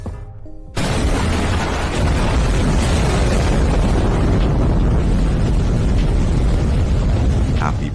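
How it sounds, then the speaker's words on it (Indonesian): A sound effect of the Chernobyl nuclear reactor exploding bursts in abruptly after a quiet moment, then holds as a loud, sustained roaring rumble that fills the rest of the stretch. "Dalam hitungan detik, ledakan dahsyat mengguncang langit malam."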